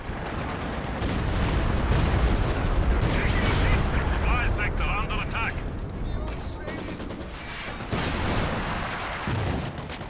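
A Walking Stuka rocket barrage in Company of Heroes 2 pounds down as a dense, continuous roar of explosions and gunfire, loud and sustained, with a commentator talking over it.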